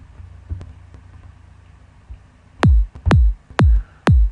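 Four deep, punchy sidechained psytrance kick drum hits thump at a steady pace after a quiet stretch with faint clicks and low rumble.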